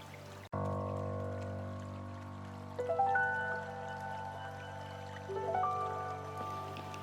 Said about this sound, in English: I like to use this watered down mixture of shampoo and water and then pour that on my scalp